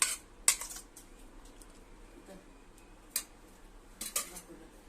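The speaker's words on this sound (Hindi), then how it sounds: "अब ये सब चीजों को अच्छी तरह से मिला लेंगे।" Moong dal pakoda batter with chopped onion and coriander mixed by hand in a bowl, a few sharp clinks of a spoon against the dish between quiet soft stirring.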